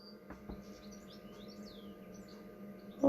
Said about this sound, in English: Oh, somebody's busy chirping.